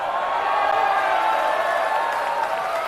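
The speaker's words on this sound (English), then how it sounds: "A roar of delight. An applause of appreciation." A pool hall crowd at a professional nine-ball team event cheers and applauds at close range, a continuous wash of clapping and voices holding steady and loud from start to finish.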